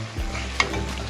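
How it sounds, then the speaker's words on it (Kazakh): Kuyrdak of kidney and heart with spices sizzles in a pan as a utensil stirs it, one scraping stroke over a steady close frying hiss. "20 минуттай қуырғаламыз."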